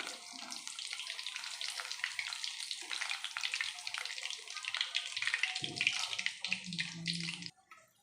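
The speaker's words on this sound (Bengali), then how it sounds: "চিকেন পকোড়াগুলো কিন্তু ভালোভাবেই ভাজা হয়ে গেছে" Chicken pakoras deep-frying in hot oil give a steady, close, dense sizzle and bubbling that runs without a break for about seven seconds before cutting off, with a few low clunks from the pan.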